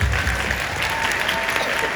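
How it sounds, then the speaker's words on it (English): Steady, dense applause from a gathered audience at a team sharing session, many hands clapping continuously at even loudness without any break. "Let's give her a round of applause"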